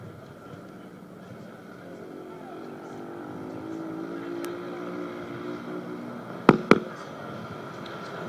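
Nigerian Army motorcycle team engines drone and build steadily at an outdoor display, with two sharp bangs near the end over crowd noise and announcer talk.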